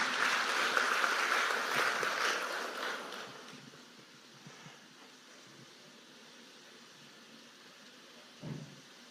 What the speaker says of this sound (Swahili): Tumpigie rais makofi kwa hiyo kazi